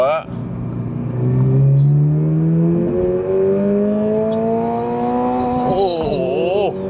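A Subaru BRZ pulls hard from second gear, its engine note climbing steadily in a loud, close rising drone, then dipping briefly as it shifts and climbing again while someone talks over it.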